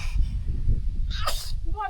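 A single sharp sneeze bursts out near the end of a short stretch of outdoor chatter at a Fourth of July parade and small show, loud and close.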